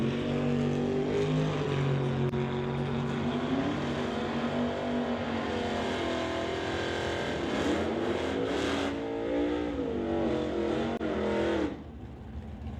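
Doorslammer drag race between a 598 cubic inch big block Chevy with a hood scoop and a blue 302 Mustang: a loud, sustained engine roar rises and sweeps in pitch, heard from the track side, then drops off sharply near the end.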